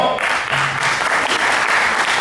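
A crowd applauds in welcome at a Holi celebration, with steady, loud, dense clapping filling the whole short moment.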